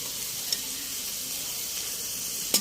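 Bell peppers and carrots fry in a pan in a village kitchen, giving a constant soft sizzle and hiss with a faint clink near the end, and no voices.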